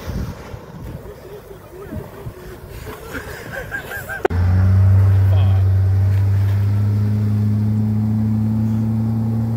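The 120 horsepower engine of a fishing boat out of Holyhead starts up abruptly and settles into a loud, steady low drone. Wind buffets the microphone, and people talk and laugh before it starts.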